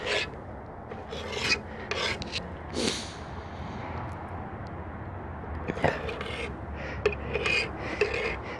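Roots of a two-trunk field maple bonsai are combed out, giving scratchy, rasping bursts of raking and rubbing at close range, irregular and fairly quiet, with no talking.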